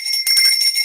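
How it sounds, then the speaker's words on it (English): A bell rings with a bright, sustained metallic tone, close and loud, holding steady for under a second with no voices over it. "Ring the bell."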